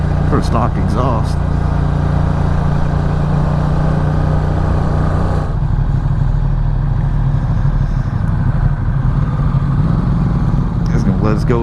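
A 2016 Ducati XDiavel S motorcycle on its stock exhaust rumbles steadily close by, a deep, loud low-end drone that continues throughout while a rider talks over it.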